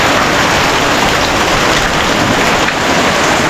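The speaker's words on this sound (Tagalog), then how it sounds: "Lakas ng ulan." Heavy rain pours down steadily in a Philippine village threatened by a rising lake and flooding, a loud, unbroken close hiss with no pauses.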